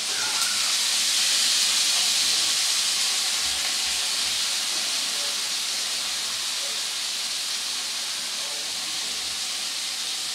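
Chopped onions hiss and sizzle in hot oil over fried tempering spices while potol korma is being made. The sizzle is a loud, steady, close hiss that runs unbroken throughout, with no talking.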